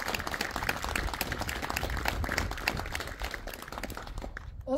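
Brief applause from an audience at the opening of Hagestua, a steady patter of clapping that fades out near the end.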